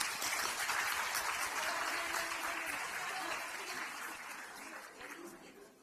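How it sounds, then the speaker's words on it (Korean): Audience applause welcoming a guest at the founding anniversary event of the national women voters' league, a continuous wash of clapping that is faint overall and slowly fades toward the end. "큰 박수로 환영해 주시기 바랍니다."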